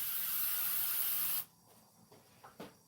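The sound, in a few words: spray can spraying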